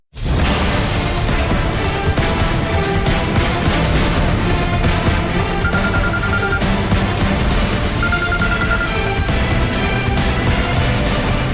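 A phone rings continuously over a dense, loud bed of music or background noise, the ringing steady throughout.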